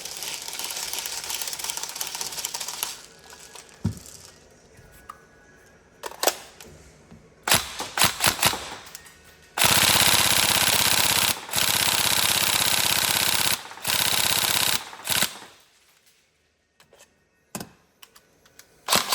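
Tokyo Marui 416 Delta airsoft rifle being test-fired indoors, with loud, fast buzzing bursts of full-auto fire broken by short clicking single shots and brief pauses, close and alone.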